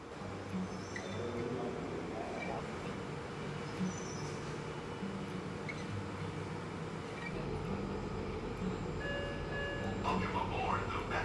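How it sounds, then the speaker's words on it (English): Steady low rumble and rattle of a Metro D-Line train in motion in California, continuous throughout, with faint voices and a few brief tones near the end. "Welcome aboard the Metro D-Line."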